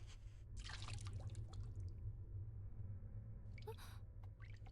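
In the Corpse Party: Book of Shadows game, water drips from a faucet onto the floor in a few faint, scattered drops over a low, dark ambient drone.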